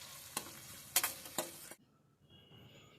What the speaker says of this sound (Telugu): ఇప్పుడు ఇందులోనే ఆనియన్స్ కూడా యాడ్ చేసేసుకుందాము. ఆనియన్స్ యాడ్ చేసేసుకున్నాక ఆనియన్స్ అలా ఇలా కలుపుకోండి.